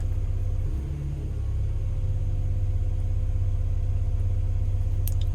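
A new digger's diesel engine idling low at 950 RPM in a dealership yard, with a steady, deep, even rumble throughout and a faint clink near the end.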